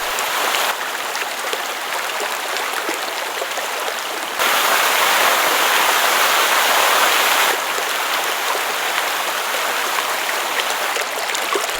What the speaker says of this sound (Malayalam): പാറക്കെട്ടിനിടയിലെ വീതി കുറഞ്ഞ ചാലിലൂടെയാണ് വെള്ളം താഴേക്ക് കുതിച്ചു ചാടുന്നത്